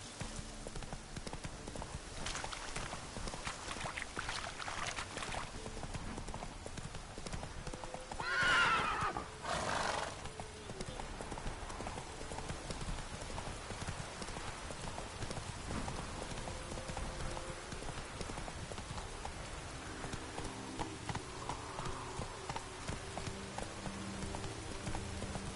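Roach, a horse in The Witcher 3, gallops with muffled hoofbeats while rain patters, and a loud whinny rises briefly near the middle before fading.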